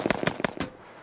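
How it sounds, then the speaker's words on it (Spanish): Rapid sharp cracks of AK-47 rounds striking an armored vehicle, four or five loud close impacts in quick succession, then fading into quiet. "Un proyectil AK-47 impactará sobre el vehículo con una potencia determinada."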